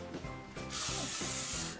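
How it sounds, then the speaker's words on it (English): A short hiss of hairspray sprayed onto hair from root to tip bursts out and holds for about a second, alongside low rubbing and handling noises. "I'm just spraying it all over my hair from the root to tip"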